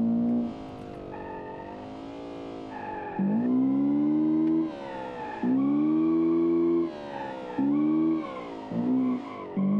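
In the BeamNG driving game, a car drifts along a mountain road, its engine revving up and down in loud, pitch-swept surges while the tires squeal through repeated slides, with no talking.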